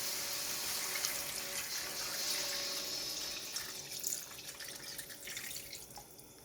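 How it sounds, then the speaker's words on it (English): Water pours and splashes into a pot with flour for chicken mole for several seconds, trickling off toward the end; fairly quiet and close, with no talking. "So now we're going to add some water."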